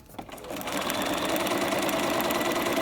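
A sewing machine runs steadily, stitching a fabric spaghetti strap parallel to its folded edge, with a close, continuous rapid whirring hum that starts after a brief pause and holds for the rest.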